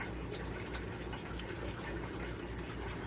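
Water pours and gushes steadily over Home Depot substrate being rinsed for a pleco tank, a continuous broadband rush of running water without pause, no voices.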